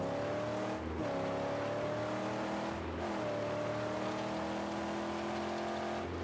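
A car in the Mad Max video game drives with a steady droning engine note, easing off and picking up speed twice, loud and continuous with no talking.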